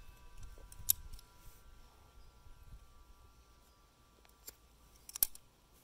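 Cutting off the end of a weed eater's pull-start cord: faint, quiet surroundings broken by a few sharp snips, one near the one-second mark and two more toward the end.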